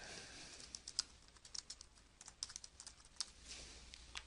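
Someone types a name on a computer keyboard while setting up a monitor in a software session, a quick run of light, crisp key clicks at an uneven pace, faint and close, with no talking.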